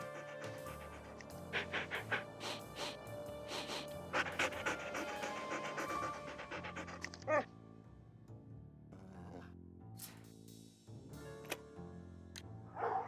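Dogs in the Nancy Drew game Ghost Dogs of Moon Lake pant rapidly and continuously in quick, rhythmic breaths, fairly close, with scattered sharp clicks and brief background noises mixed in.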